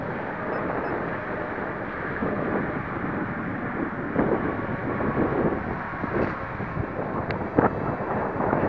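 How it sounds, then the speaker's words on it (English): Strong, gusting wind roars outdoors as a steady broadband rush, swelling and easing in several surges, with no speech. "Wind's gusting up pretty hard right now."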